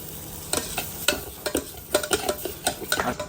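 Repeated scraping and stirring of Maggi noodles with masala in a pan, brisk irregular strokes over a soft sizzle, close and fairly loud.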